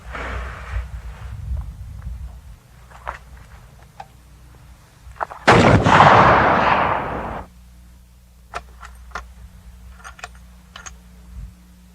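One loud rifle shot fired at long range, around 500 yards toward brush, booms and rolls off for a couple of seconds amid small clicks and handling sounds before and after.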